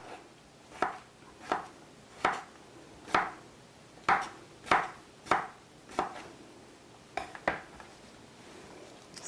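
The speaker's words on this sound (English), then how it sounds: "And then when I like to cut it in half, and then half again, and then slice it" A knife chops a peeled salad vegetable into bite-sized pieces on a board for a Chinese salad, about ten crisp, close thuds in a fairly even rhythm with no talking.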